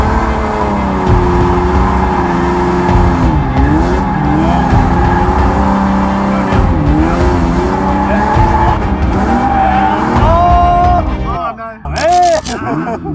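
A car drifts in second gear close to a wall, its engine roaring loud and near while the tires squeal and skid in long rising and falling howls, ending with sharper screeching bursts.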